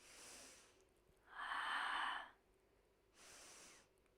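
Slow breathing during a Pilates exercise: a soft breath, then a louder, airy exhale lasting about a second, then another quieter breath. The sounds are close and hushed, with no talk.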